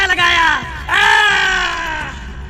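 A ghost screams in a Hindi horror tale, a loud, sustained, wavering voiced cry in two long swells that fade toward the end, likely a performer's voice imitating the ghost.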